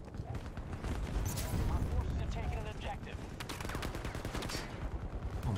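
Gunfire in Battlefield 2042: steady rapid shots crackling under a loud, churning battlefield roar, with rattling bursts repeating throughout and occasional heavier thumps, no voices standing out.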